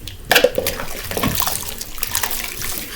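Dishes being washed under running water indoors in a living room, with a steady splash of water and a few clinks and knocks from handled dishes. The sound is close and carries on throughout, with no talk.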